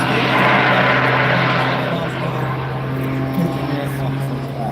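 Jet aerobatic display aircraft at the Ayr air show festival, a loud sustained engine roar with a steady hum, heard outdoors under live commentary.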